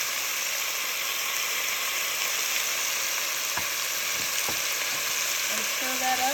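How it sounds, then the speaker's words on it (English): Minced garlic sizzles in a pan with browning pieces of steak, a steady bright frying hiss throughout with a few scraping stirs of a utensil near the end. "I'm going to throw in the garlic right in with the meat"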